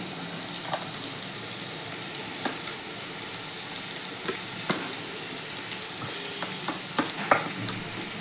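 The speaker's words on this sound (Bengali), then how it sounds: "এবার চিড়েটাকে খুব হালকা হাতে সমস্ত সবজির সঙ্গে কিন্তু খুব ভালো করে মিশিয়ে নেব" Flattened rice tossed gently with vegetables, raisins, fried peanuts and cashews in a pan for Bengali chire polao; a steady soft sizzle runs under scattered light scraping and tapping strokes of the spatula, close by.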